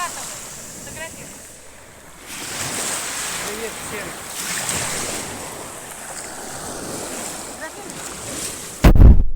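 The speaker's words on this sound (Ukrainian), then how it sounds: "Волна, накатывай." Sea waves roll and wash ashore at Sochi in steady surges under gusty wind noise, with a brief greeting spoken and a loud knock near the end.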